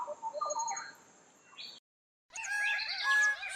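Birds call in a Papuan forest: clear chirps and whistles at moderate distance, a quieter stretch, a brief silence, then a denser burst of overlapping bright calls.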